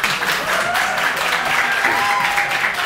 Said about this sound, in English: I'm not sure what everybody's clapping about.